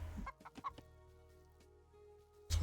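Turkeys gobble in a video game as a handful of short, close clucking calls at the start. A quieter tonal hum follows, then a louder burst at the end.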